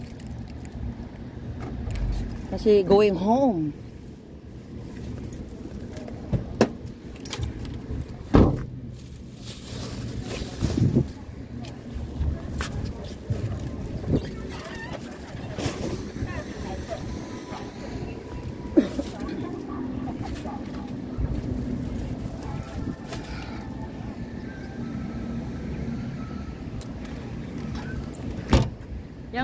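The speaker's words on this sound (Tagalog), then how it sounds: "Buksan ko muna yung sasakyan ko." A car in a parking lot in Taiwan is unlocked and opened, with key jingles, clicks and door thumps scattered over nearby outdoor noise while a person talks throughout.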